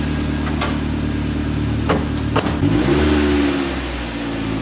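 Nissan 300ZX with a newly fixed control arm, engine idling then revving up as the car pulls away, with a few clicks and knocks, moderately loud and close, no talk.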